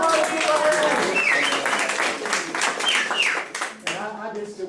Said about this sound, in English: Allison Gale, come on, give her a hand